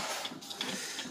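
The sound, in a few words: photocopier copying sheets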